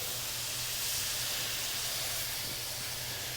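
Shrimp searing in a very hot, smoking wok, giving a steady, loud broadband hiss and sizzle throughout with a low hum beneath and no talking.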